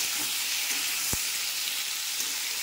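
Fried vegetables go back into hot oil seasoned with dried red chilli and five-spice for shukto, giving a continuous loud sizzling hiss close by, with one sharp knock of the pan partway through.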